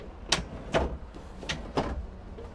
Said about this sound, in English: you can still fully open your drawers